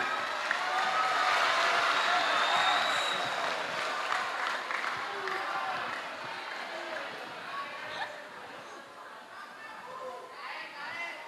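An audience at a school Isra Mi'raj religious gathering in Purworejo breaks into applause, loudest at first and then tapering into lighter scattered clapping mixed with chatter and some speech.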